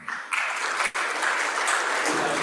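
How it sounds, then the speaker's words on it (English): Audience at a banking and finance conference applauding, a dense, steady patter of clapping that starts abruptly, briefly dips, then continues evenly to the end. "We didn't hear as much of a clapping as we should hear at the day."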